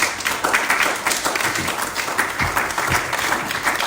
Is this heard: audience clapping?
yes